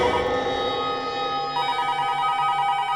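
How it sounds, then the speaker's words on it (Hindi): A telephone rings loudly and close by in a tense indoor setting, its electronic trill starting partway through and repeating in a steady pattern, with no talk over it. "लगता है किडनैपर का ही फोन है।"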